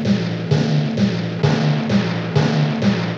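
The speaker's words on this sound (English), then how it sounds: "This is what it would sound like if I left all the mids in." A distorted timpani hit sample repeats in a steady loop, about seven booming strikes at roughly half-second intervals, with full midrange left in and gritty overtones. Loud, with no voices.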